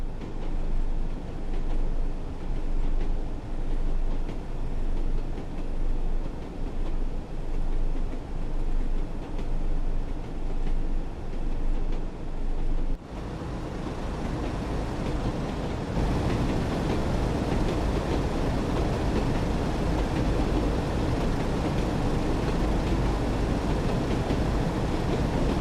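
Train carriages run along the track in a rail video game, a steady loud rumble with faint rhythmic clatter that continues throughout, with no talk.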